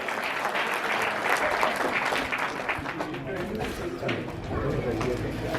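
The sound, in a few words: audience applause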